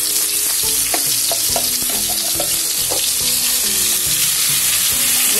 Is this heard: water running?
no